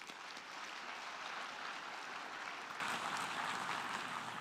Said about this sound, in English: Please join me in a round of applause, another round of applause for our opening speakers.